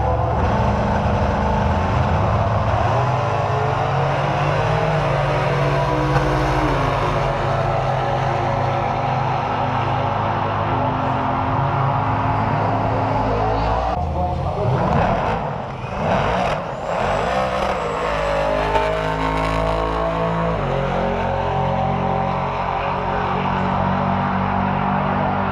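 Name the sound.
drag racing cars at Santa Pod Doorslammers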